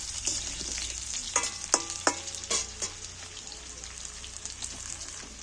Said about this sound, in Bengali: নাড়াচাড়া করে বেশ ভালো করে ভেজে নিই